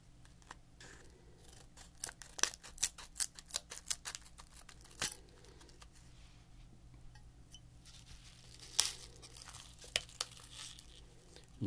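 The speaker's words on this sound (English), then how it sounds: "I'm only going to cut a small corner off here." Scissors snip a small corner off a crinkly blue raspberry candy package close to the microphone, with a run of crisp cuts and rustles, then a pause and a few more snips, all quiet with no speech.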